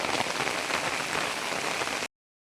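Heavy rain pours down steadily in a dense, loud, continuous hiss with no voices, cutting off abruptly at the end.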